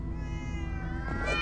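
Cats meowing in the Minecraft Story Mode video game, a short drawn-out meow over a steady low background hum, moderately loud and close.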